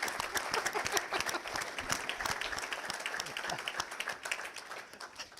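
Sustained, lively audience applause with distinct individual claps rings through a college hall at a technical college signing day honoring electric power and distribution students, continuing without a break.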